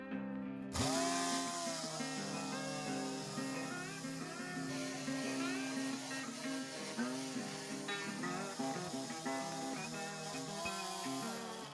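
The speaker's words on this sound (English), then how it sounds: "I'm going to use an electric sander first, just to wear off all of the rust on top." An electric sander grinds rust off an old axe head, producing a continuous loud whining buzz with shifting pitch that starts abruptly and runs unbroken to the end.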